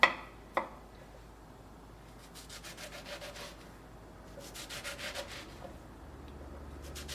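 Knife strokes cut an ingredient into small pieces for soup, a faint run of rhythmic scraping and chopping taps on a board after two sharp knocks at the start.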